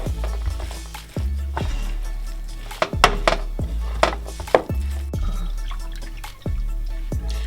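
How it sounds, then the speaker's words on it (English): Radish cake batter mixed in a bowl for chai tow kway, with repeated clinks and taps of a utensil against the bowl at an uneven rhythm, close and fairly quiet, with some wet sloshing, no talk. "and then we're gonna mix it together"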